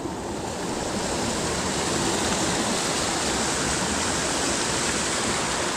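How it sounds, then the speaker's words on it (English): Steady, dense roar of a waterfall on a mountain trail near Eliza Brook in the Kinsman range, New Hampshire, close and loud throughout with no talk. "figured I'd come peek down at the waterfall"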